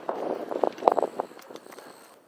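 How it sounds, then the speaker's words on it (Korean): Strong sea wind on Jeju Island in July roars and buffets across the microphone outdoors, with a few soft thumps mixed into the steady gusting rush. "바람 소리 엄청 들리시죠?"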